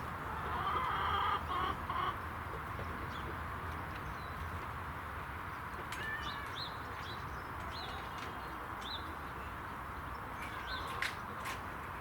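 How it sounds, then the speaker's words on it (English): Chickens cluck and chirp intermittently over a steady outdoor hiss on a snowy allotment, with a few short calls scattered throughout. "Got 11 chickens"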